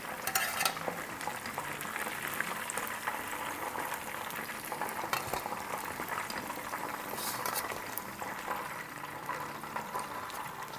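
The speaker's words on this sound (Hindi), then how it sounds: "अदर साइड भी 3-4 मिनट फ्राई कर लेंगे।" Chicken kabab skewers fry in hot oil in a pan, giving a steady, dense bubbling sizzle that holds at an even level throughout with no voices.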